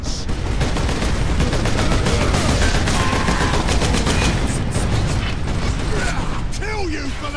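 Dense, sustained gunfire and rattling mechanical clatter fill a Warhammer 40,000: Space Marine battle, loud and continuous with bursts layered over a constant din, and faint voices mixed in.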